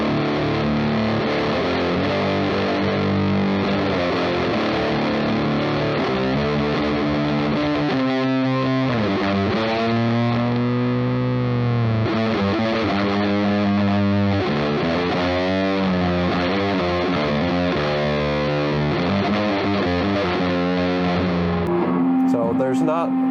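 An electric guitar runs through a Big Muff style fuzz pedal into a loud amp, giving a thick, heavily distorted sustained tone as a long run of chords and bending notes plays continuously for over twenty seconds, close and loud.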